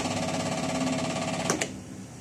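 Air compressor in a beekeeping carpentry workshop running with a steady, loud mechanical drone and rapid pulsing, joined near the end by a brief sharp knock or click, with no talking.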